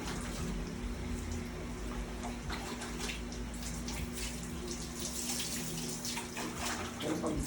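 Tap water runs continuously into a basin during a cat's bath, a close, steady splashing gush with faint bright spatters on top and no talk.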